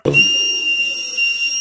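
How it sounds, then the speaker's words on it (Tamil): A toy whistle shaped like a hammer is blown once, giving a steady, piercing high tone that holds for over a second after a brief breathy start, close and loud with no talk. "விசில். இது நல்லா ஊதுனா நல்ல சத்தம் வருதான்னு பார்க்கலாமா?"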